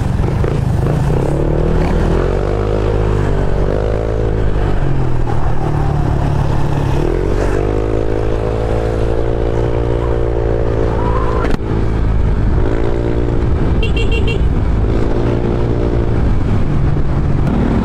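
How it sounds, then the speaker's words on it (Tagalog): A Honda Click 125i scooter fitted with an MT8 aftermarket exhaust pipe revs repeatedly up close, its crisp, loud engine note rising and falling in bursts over a steady idle. "Grabe yung lutong ng pipe natin ngayon guys. MT8 pipe, lutong. Ganda ng tunog."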